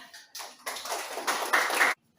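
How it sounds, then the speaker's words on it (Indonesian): A class of students claps during a teaching-practice lesson, a soft, short burst of hand claps that starts, swells briefly in two waves and stops abruptly, with no talking. "Baik, tepuk tangan."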